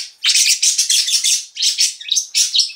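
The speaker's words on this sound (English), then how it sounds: "And Blueberry's a good bird." A pet bird at home chirps in quick, bright bursts of tweets, close and fairly loud, with short pauses between phrases and no talking over it.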